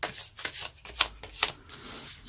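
Tarot cards shuffle on screen in a few quick riffling bursts, soft and close, with brief pauses between them and no talking.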